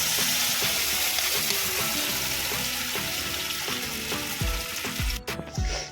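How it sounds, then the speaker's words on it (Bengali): Peas with a tomato, ginger and garlic masala fry in a pan in a steady close sizzle, with clinks and scrapes of stirring and a couple of low thumps near the end. "ভালো করে আমরা এটা ভেজে নেবো, লাল লাল করে একটু ভেজে নেবো"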